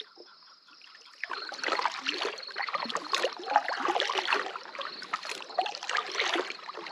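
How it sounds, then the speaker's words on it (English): Gentle water splashes and trickles from paddle strokes on a lake in Leslie Gulch, Oregon, quiet and close, starting after a brief hush and continuing in a loose rhythm. "All I can hear is birds and me paddling."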